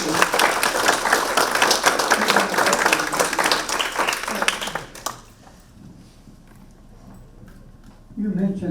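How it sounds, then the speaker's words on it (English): Applause from a forum audience for the speakers: about five seconds of brisk, close clapping that cuts off abruptly, followed by near-quiet room tone before a voice starts. "Let's give them a round of applause for speaking."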